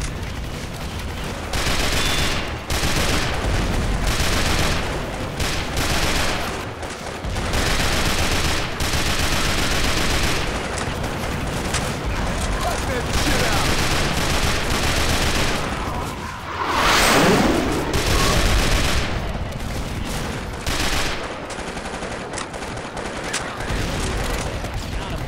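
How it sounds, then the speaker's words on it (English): Rapid bursts of weapon fire in a video game, sustained and loud across the whole stretch, with dense shots and a sweeping whoosh partway through; no clear voices over it. "Nade launcher."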